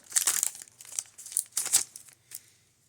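A Mystery Booster series 2 card pack torn open by hand, with crisp crinkling and tearing of the foil wrapper in several close bursts that fade out, no talking.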